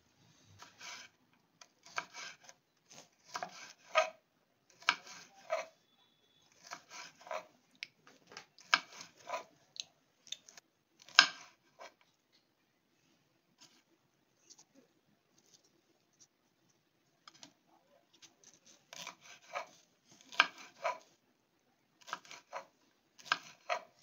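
A knife slices shevala (dragon stalk yam) into fine pieces, giving rapid clusters of crisp cutting strokes separated by short pauses, close and fairly quiet, with no talking.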